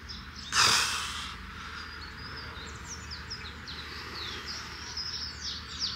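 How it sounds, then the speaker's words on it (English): Birds chirp and trill in short repeated phrases against a steady outdoor hush in the mountains of Tenerife, with one brief louder rustling burst near the start. "Listen to the birds."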